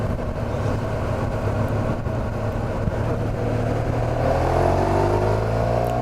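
A gendarme's motorcycle accelerates along the road with a steady, loud engine drone that climbs in pitch toward the end as the throttle opens, heard from close behind.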